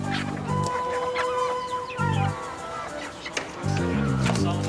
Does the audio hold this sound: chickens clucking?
yes